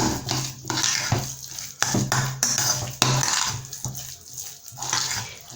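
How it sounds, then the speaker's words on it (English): Sardines mixed with a spoonful of mayonnaise in a bowl for a club sandwich filling, a loud, close run of wet squelching and scraping strokes with occasional sharp clinks of a spoon against the dish. "I'm going to add a little quantity of mayonnaise, just a spoon of mayonnaise, and then mix it together."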